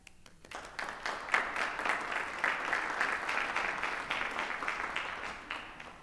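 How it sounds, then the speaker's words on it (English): A room of friends and family applauds at a family nurse practitioner hooding ceremony; the clapping starts abruptly, then holds as a steady, fairly close round before tapering at the end. "Cohort 3 would like to give you a round of applause because you truly deserve it"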